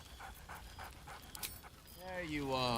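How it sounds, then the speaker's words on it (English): A dog in the Baldur's Gate 3 video game pants rhythmically in short quick breaths, then gives a brief whine or yip, with a faint bed of game ambience beneath. "Scratch barks merrily in something like agreement."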